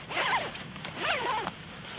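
The zipper of a Snugpak Special Forces sleeping bag is pulled in two quick, close rasping strokes, each a short burst of fabric-and-teeth rattle, with no talking.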